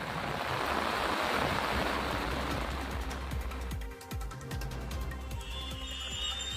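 Floodwater covers a highway after heavy storm rain while vehicles wade slowly through it. A steady, loud rush of churning water fills the whole stretch, broken by scattered splashes and low rumbling.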